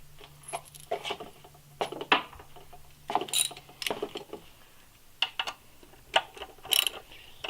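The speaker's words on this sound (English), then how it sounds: "So much fun watching you take bolts off." Bolts are worked loose from a wheel mount, producing a scattered run of sharp metallic clinks, ratcheting clicks and light clatters, close and fairly quiet, with no talking.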